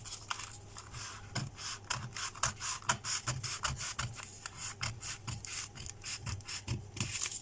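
Scissors cutting through dress fabric in close-up, a rapid series of crisp snipping and rasping strokes in a steady rhythm, fairly quiet with no voices.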